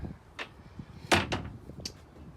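Door on a 2019 Beneteau Swift Trawler 35 boat sliding and knocking in a few short, close bursts, with one stronger thud in the middle and no talking.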